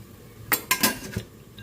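A few quick metallic clanks and clatters of a pressure cooker lid being set and closed over pork rib sinigang, fairly close in a quiet room.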